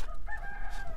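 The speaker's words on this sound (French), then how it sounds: "Il y a le coq qui chante," A rooster crows once in a short, fairly loud call over a low background hum.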